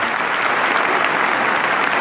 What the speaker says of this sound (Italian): E gli facciamo un applauso di benvenuto a Beatrice Gasperini.